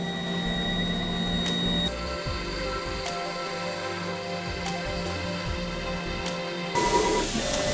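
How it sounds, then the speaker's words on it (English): A Laguna IQ Pro CNC router with automatic tool changer runs its spindle through a program, giving a steady close whir with faint high tones, a few brief clicks and a louder burst near the end. "The spindle's coming on, and now it's going to start the program"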